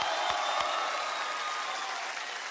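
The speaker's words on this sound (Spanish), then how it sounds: "un fuerte aplauso a toda la gente de la costa" Audience applause at a live comedy show, a steady dense wash of clapping that holds at an even level throughout with no voices over it.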